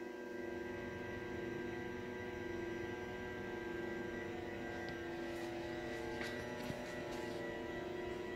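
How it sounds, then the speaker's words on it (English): A steady electrical buzz and hum from MPS fruit machines fills a back room continuously, with faint ticks and clicks scattered over it and no talking. "It's a lovely buzzing noise you can hear."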